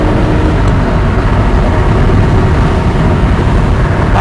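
Ferrari Testarossa engine pulling hard in second gear, a dense, loud, steady roar heard from inside the car with broad road and wind noise mixed in.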